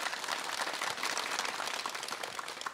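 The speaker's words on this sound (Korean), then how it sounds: "바쁜 시간 내주신 우리 네온의 전문가 여러분께 다시 한번 박수 드리고요" Studio audience applauding at the close of a Daegu MBC anniversary special broadcast on job creation; steady, dense clapping throughout, moderately distant with no voices.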